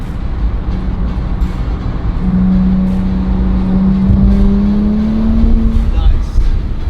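A Nissan Z NISMO pushed hard through a corner, with a loud steady engine drone rising in pitch and road roar heard from inside the cabin.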